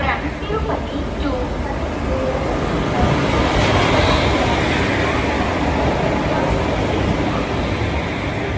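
Passenger train 574 from Tirupati pulls into Guntakal station, a broad, continuous rumble of rolling wheels and carriages, loud and close, with people talking over it.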